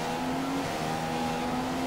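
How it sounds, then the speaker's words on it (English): A Formula 1 car in the F1 2015 video game at the Hungarian circuit accelerates with a steady, rising engine whine held at moderate volume, and no speech comes over it. "Accelerate, car!"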